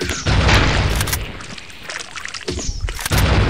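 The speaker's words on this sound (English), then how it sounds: "I'm shooting randomly because I'm scared!" Loud bursts of gunfire and booming impacts from the Aliens vs Predator video game, erratic shots clustered near the start, middle and end over a dense background of game effects.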